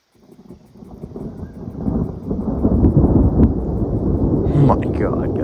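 Thunder rumbles during a storm at a remote alpine lake, building from silence into a loud, sustained roll that lingers, with a brief sharper burst near the end.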